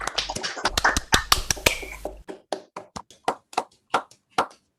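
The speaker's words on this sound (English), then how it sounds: "If you want to unmute and clap or do the thing" Online audience clapping over unmuted microphones after an academic talk, sharp close claps at first overlapping quickly, then thinning to a slower, evenly spaced series of single claps.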